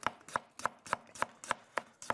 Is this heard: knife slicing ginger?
yes